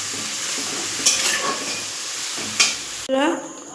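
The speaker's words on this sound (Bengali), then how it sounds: "এই যে টমেটোটা দিয়া আর আদাটা দিয়া আর কাঁচা লঙ্কা যে দিয়াটা রয়েছে এই গন্ধটা যাতে কাঁচা গন্ধটা না বেরোয় ভালোভাবে এইভাবে নেড়ে নেব" Tomato, ginger and green chilli stirred in a hot frying pan, a constant sizzle broken by two sharp scraping strokes and a louder final clatter of the spoon, close up with no talk.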